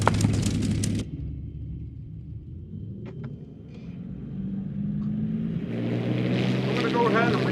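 A warbird aircraft engine drones with a deep, steady rumble that shifts in pitch and grows fuller toward the end, while voices talk over it.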